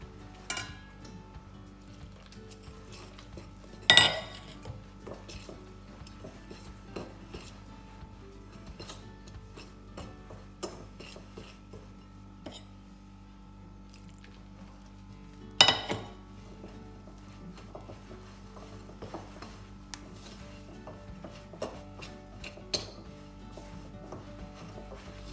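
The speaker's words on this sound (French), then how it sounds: "au départ on mélange avec une fourchette" A fork mixing gyoza dough in a bowl: quiet intermittent scraping and rubbing with two sharper clinks against the bowl, close and otherwise hushed, no talking.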